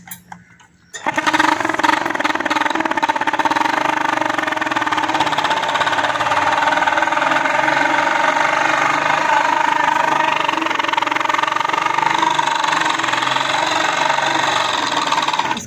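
A motorcycle fitted with a modified, louder silencer starts up after about a second and then runs steadily and loudly, a dense continuous engine roar with no break until the end.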